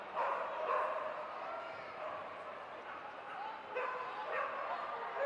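A miniature American Shepherd at a dog show barks and yips in a busy hall, its bursts blending with steady crowd chatter and nearby voices.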